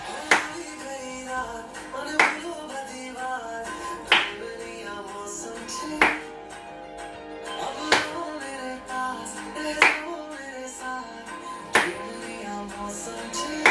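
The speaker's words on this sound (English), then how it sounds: "The 3 claps." Sharp hand claps in an Indian dance class for health ring out at a steady pace, about one every two seconds over thirteen seconds, over faint background music.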